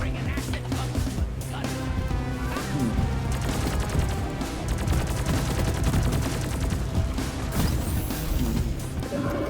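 Stubby submachine gun firing in the video game Deep Rock Galactic, dense rapid bursts of gunfire with impacts and crashes, loud and continuous throughout.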